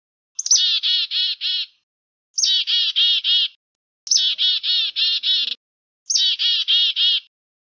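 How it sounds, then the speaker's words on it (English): A chickadee calls four times, each call a short, clear, bright note followed by a quick burst of buzzy, harmonic rasps. The calls are evenly spaced with silence between them and are close and loud. "C for chickadee."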